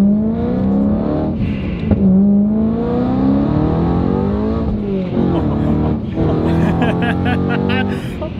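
A supercharged Mitsubishi Evo 8 of about 800 hp accelerates hard from inside the car, with loud rising engine and supercharger whine through several gear pulls and a voice talking over it.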